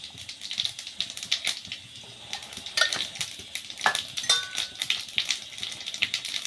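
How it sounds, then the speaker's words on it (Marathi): Cumin seeds crackle and sizzle in hot oil in a pan for red pumpkin and pomfret fish, a dense, steady fizz with scattered sharp pops, close and fairly loud, with no talking. "आता जिरे टाकून घेते"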